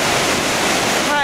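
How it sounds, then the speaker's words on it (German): Waves break on a rocky shore on Gran Canaria, near a beach by a hotel, as a loud, steady wash of surf and spray that fills the whole moment at close range. "da kommen Wellen an"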